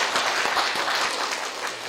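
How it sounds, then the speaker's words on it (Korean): A seminar audience at Kookmin University's mechanical engineering school applauds after a lecture, with dense, steady clapping filling the room for a couple of seconds. "박수로 좀."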